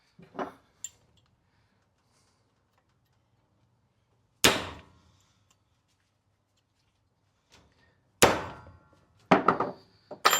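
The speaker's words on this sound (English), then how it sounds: "whereas these are just, you can tap them through. So I'll just get a punch for that" A punch is tapped to drive bicycle parts through, giving a few isolated metallic clangs spread apart by quiet gaps, with a short quick double strike near the end.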